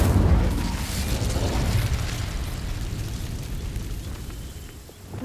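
A fire spell bursts into flame against dry vines in Hogwarts Legacy, a loud whooshing boom at the start that fades into a lingering crackling rumble.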